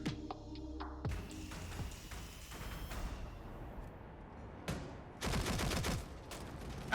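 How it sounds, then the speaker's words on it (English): Rapid bursts of TCSG gunfire in a competitive video game match, loud crackling volleys that start and stop abruptly, with several separate bursts across the stretch and no talk over them. "As you can hear the sounds of gunfire, the TCSG, one of the most distinct guns in the entire game"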